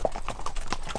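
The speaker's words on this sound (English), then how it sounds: "We're almost at a full trot, and it is so much smoother than horses that I'm used to riding." A horse on a trail ride through Peru's Sacred Valley breaks into a near full trot, its hooves striking in a quick, even clip-clop rhythm of about six close, crisp beats.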